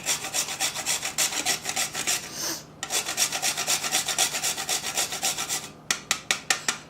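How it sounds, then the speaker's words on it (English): Whole nutmeg is rasped against a grater in quick, even rhythmic strokes, close and fairly loud, with a brief pause before a final few slower scrapes. "when you grate whole nutmeg, it just releases a beautiful, spicy, warm, spicy aroma."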